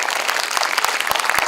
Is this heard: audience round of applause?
yes